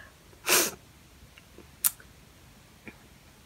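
A single loud sneeze from a woman, a short sharp burst up close, followed by a few faint clicks and ticks in an otherwise quiet room.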